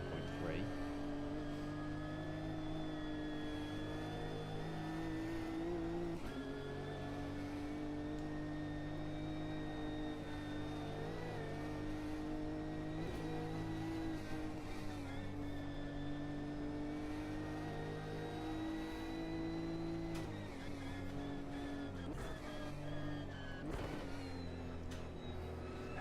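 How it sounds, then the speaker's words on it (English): A race car at Bathurst in the video game Automobilista 2 holds a steady, droning engine note with brief pitch dips as it downshifts, while people talk over the top throughout. "Downshifts in these cars sound just delicious."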